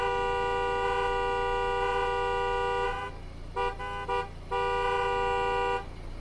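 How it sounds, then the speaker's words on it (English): A car horn blares in a long, steady blast for about three seconds and then sounds in several short, choppy honks, loud and close over a low traffic rumble. "the car behind him blasted its horn"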